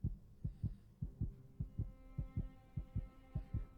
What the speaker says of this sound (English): you can hear her heartbeat